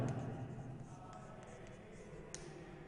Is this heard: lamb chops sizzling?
no